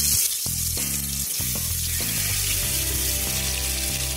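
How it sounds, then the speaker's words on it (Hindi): Stuffed tinda (round gourd) fry in smoking-hot oil over medium gas, producing a continuous, even sizzle with steady tonal music running underneath. "इसे हम 2 से 3 मिनट तक इसी तरह से मीडियम गैस तक भून लेंगे।"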